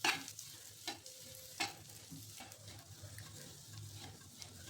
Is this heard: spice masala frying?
yes